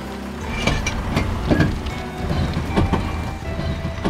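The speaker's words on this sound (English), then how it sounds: "we'll see what the scraping noise is like and then see if we can drive" A camper van with a faulty handbrake rolls along with a continuous low rumble and a rough scraping noise, loud and steady throughout.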